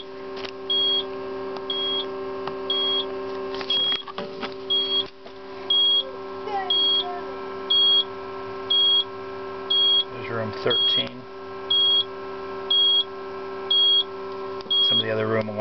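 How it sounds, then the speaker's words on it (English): A POCSAG pager setup with WaveWare, MicroVision and Apollo units sounds a room alarm: short, bright beeps repeating about once a second for the full stretch over a steady electrical hum, with someone speaking briefly at the start. "Some of the other room alarms that have gone off"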